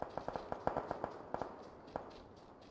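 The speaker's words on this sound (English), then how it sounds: "I hear gunfire on the other side of it" Rapid bursts of distant video game gunfire in PlayerUnknown's Battlegrounds, a dozen or so sharp cracks in an irregular rhythm, fairly faint against a quiet background.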